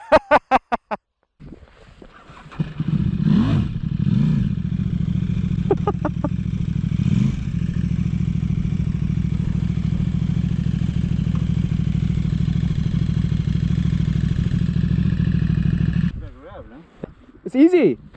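A sport bike motorcycle engine runs steadily and close for most of the stretch, a low even rumble that cuts off near the end, with people talking briefly before and after.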